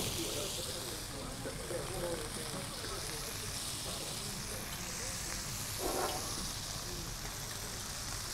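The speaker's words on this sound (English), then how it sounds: "I will do the artichoke heart, and then I will do the garlic. And let's saute that." Tomatoes, artichoke hearts and garlic sizzle steadily in a hot pan, a soft continuous frying hiss beneath faint, indistinct voices.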